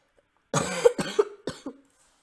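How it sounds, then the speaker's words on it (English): A person coughs in a quick burst of three or four harsh, close hacks after a moment of silence, loud and dry with a short raspy tail. "you might be hearing some coughs in this video"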